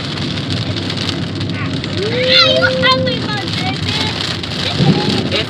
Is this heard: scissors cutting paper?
no